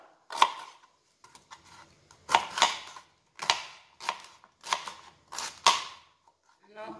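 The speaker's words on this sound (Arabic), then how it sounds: "عندنا هنا هذيك البسباس راح نقطعوه ثاني بنفس الطريقه" A knife chopping fennel on a cutting board, about seven sharp distinct chops in an irregular rhythm, close and crisp with quiet gaps between.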